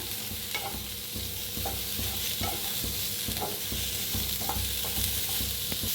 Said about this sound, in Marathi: तर कांदा चांगला असा भाजून घ्यायचा आहे।